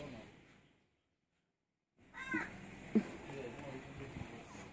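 Two pet cats scuffle, with a sharp meow and caterwauling yowl breaking out after a brief silence, close and short, mixed with a voice talking over them.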